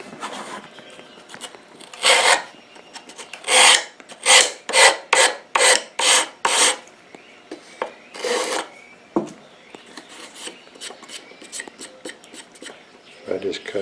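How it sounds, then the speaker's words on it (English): Rasping strokes of a file cutting a bevel on a metal 60-degree jig to clear a burr, a run of about a dozen close, loud, evenly paced scrapes with a few scattered strokes before and after. "I just cut a bevel on here."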